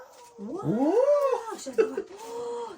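A cat makes a drawn-out, rising and falling meow, followed by a shorter wavering cry and a second long call, close and fairly loud. There is no talk over it.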